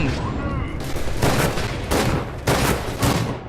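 Heavy, rapid gunfire from the shooter game F.E.A.R. Project Origin, loud and close, coming in repeated dense bursts with booming impacts and almost no break between them.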